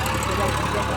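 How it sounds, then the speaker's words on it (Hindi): Massey tractor engine pulling through a muddy field, a steady loud mid-low drone filling the whole moment without break, heard close with no clear talk over it. "तो देखिए ये मैसी ट्रैक्टर जोश के साथ जा रहा है"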